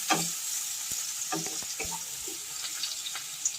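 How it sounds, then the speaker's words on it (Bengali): Chopped onions fry in the hot oil left from frying pomfret, a soft, steady sizzle with a few sharp stirring clicks and scrapes, quiet and close, with no talking. "এবার ওই তেলের মধ্যে আমি দিয়ে দেবো কুচিয়ে রাখা পেঁয়াজ।"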